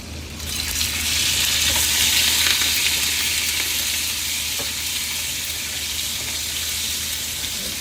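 Potatoes frying in hot oil in a pan, a loud, dense sizzle that flares up then settles into a steady crackle, with a few stirring clicks and no talking.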